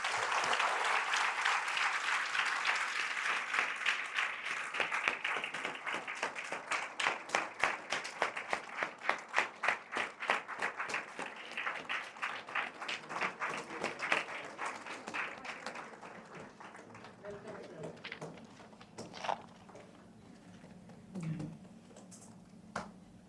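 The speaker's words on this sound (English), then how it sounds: "let us welcome Professor Dr. S.M. Balaji sir onto the dais with a huge round of applause" An audience at a dental college event claps to welcome a professor onto the dais, a sustained round of applause that swells into distinct rhythmic claps midway before fading into quieter scattered sounds.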